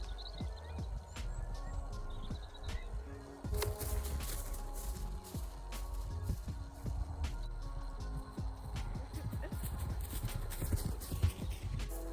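Highland pony cantering under a rider, hooves clip-clopping in a steady rolling three-beat rhythm, close and clear, with faint creaks and a few bird chirps in the background.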